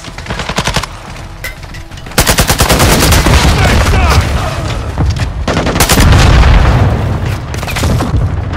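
Video game gunfire crackles in loud, dense bursts of rapid shots and heavy booms, nearly continuous with short gaps, and a voice briefly calls out over the firing.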